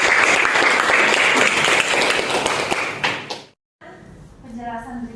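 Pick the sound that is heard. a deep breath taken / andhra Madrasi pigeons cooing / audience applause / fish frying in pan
audience applause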